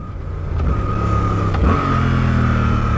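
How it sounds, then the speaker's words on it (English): A motorcycle engine, blipped on the throttle while downshifting from fourth toward first, rises sharply in pitch and then settles into a steady, loud, nearby drone with no talking. "We're going to slightly blip that throttle."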